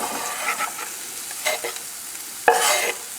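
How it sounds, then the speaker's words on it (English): Butter with diced garlic and ginger fries in a pan, a soft sizzle broken by a few bursts of stirring and a sharp clack of a utensil near the end, with no talking. "A lot of butter, and everything that I diced up"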